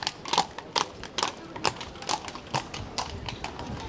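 Horse hooves clip-clop in a steady, evenly spaced rhythm across the cobbled main square of Krakow, Poland, close and distinct over a low murmur of the evening square.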